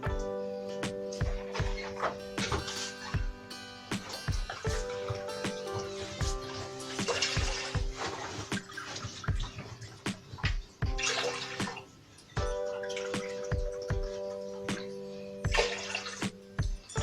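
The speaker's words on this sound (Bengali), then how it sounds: "আমি টোটাল 6 কাপ পানি দিলাম" Water splashes from a cup into a pot of chicken stock for chicken corn soup, several separate pours coming close and clear with short pauses between them.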